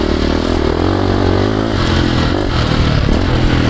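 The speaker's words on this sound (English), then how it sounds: "Oh, listen to that motor." A 2026 Ducati Desmo 450 MX motocross bike engine revs loudly up close at a private track, its pitch rising and falling with throttle, with some clattering and scraping underneath.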